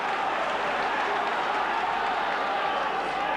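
Large stadium crowd of about 50,000 at Old Trafford during a rugby league match, a continuous dense roar of voices and cheering, steady and fairly distant, with no single voice standing out.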